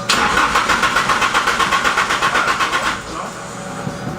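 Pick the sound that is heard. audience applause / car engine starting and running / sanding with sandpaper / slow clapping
car engine starting and running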